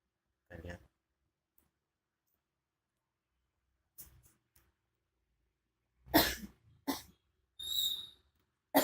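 A person with a sore throat coughs while sitting up, a few sharp isolated coughs spaced over quiet stretches, with a cluster of louder coughs near the end; faint voices nearby.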